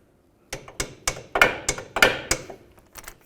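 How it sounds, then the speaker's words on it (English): About a dozen sharp metallic hammer blows strike a punch to drive a rusted bolt out of the front axle assembly of a 2003-2007 Nissan Murano, landing in a steady, slightly irregular rhythm and sounding close and distinct. "Now I'm going to punch it out from the other side."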